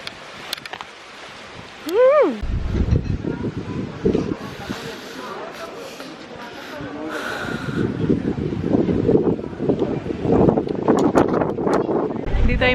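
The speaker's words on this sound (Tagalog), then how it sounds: "lakas ng hangin dito" Heavy gusts of strong, cold wind in Barcelona near La Sagrada Familia buffet and roar across the microphone with a constant rushing hiss, while a person talks over the noise.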